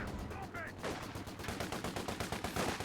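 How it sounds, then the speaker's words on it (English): Rapid bursts of automatic gunfire from a Universal Carrier in Company of Heroes 2 crackle steadily through a dense, loud battle din, with a voice faintly under the shots. "Universal Carrier firing on the Panzer Fusiliers"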